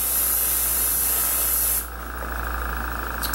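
Acrylic paint sprayed onto a car hood, a loud steady hiss of a spray gun close up that cuts off abruptly partway, leaving a quieter background hum.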